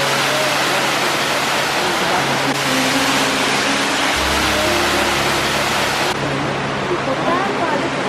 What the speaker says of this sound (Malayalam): ഇവിടുന്ന് വരുന്ന വെള്ളം താഴെ ബ്രിഡ്ജിൽ കൂടെ പോയി താഴത്തേക്ക് എത്തി